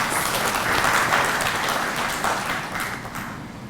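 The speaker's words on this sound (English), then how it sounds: "Let us welcome them with a big round of applause." An audience applauds at an IEEE inaugural session on the Internet of Things, a full round of clapping in a hall that fades gradually toward the end.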